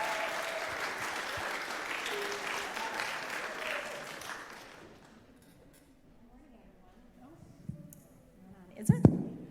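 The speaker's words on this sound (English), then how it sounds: "can you clap for them?" A church congregation claps for Amy Jennings and Julio Martinez, a dense, loud round of applause that fades out after about five seconds, leaving a quieter room with a few scattered knocks and clinks.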